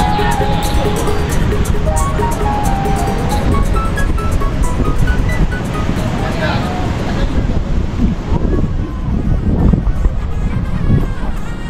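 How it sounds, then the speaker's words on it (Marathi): Sea waves surge onto the shore at Ganpatipule on the Konkan coast during the rainy season, a steady broadband roar of surf and wind that runs throughout, with voices talking over it. "समुद्राच्या बाहेर ते म्हणजेच आपल्या लाटा आहे ना, त्या आतमध्येपर्यंत पोचतात या लाटा"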